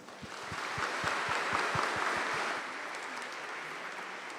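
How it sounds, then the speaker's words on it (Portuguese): Congregation in a church giving a round of applause to welcome a priest at a novena service, a dense wash of clapping that swells then gradually thins, with a few louder claps near the front. "dando a ele uma salva de palmas"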